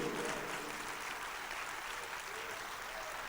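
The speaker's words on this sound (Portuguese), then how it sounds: "aplauda ao Senhor" A church congregation applauding together, a steady wash of clapping that fills the whole stretch at a fairly faint, distant level.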